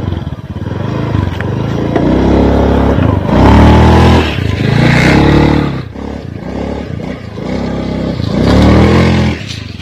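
A motorcycle engine roars and revs up and down repeatedly, loud and close, its rumbling pitch swelling and falling in waves.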